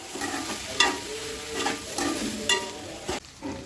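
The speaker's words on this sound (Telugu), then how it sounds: "ఇలా బాగా మంచిగా మిక్స్ చేసుకోవాలి." Onions, potatoes and peas are stirred in a pan for a curry, a spoon scraping and knocking against the pan at close range over a low steady sizzle.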